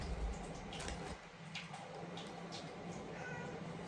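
A cat meows a few times, faint and somewhat distant, over a quiet background hum.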